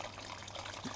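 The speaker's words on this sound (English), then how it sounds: "what we're going to do now is tip the wort we just had back over the top" Wort being tipped back over a settled grain bed in a home brew mash, a soft, continuous close pour with a faint liquid splash and trickle.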